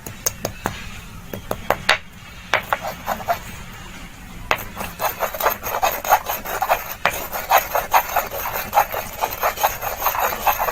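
Ox bezoar (gorochana) being ground by hand for a kohl-type paste, a steady run of close, dry rasping scrapes repeating in quick strokes, with a brief pause partway through.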